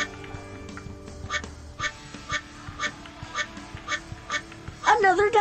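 Repeated cartoon duck quacks from a water park racing game where rubber duckies are collected on a speedway, sounding in a steady series of short bursts over background game music, with a voice speaking near the end.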